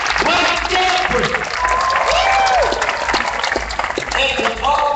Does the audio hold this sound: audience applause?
yes